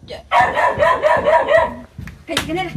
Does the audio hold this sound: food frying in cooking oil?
no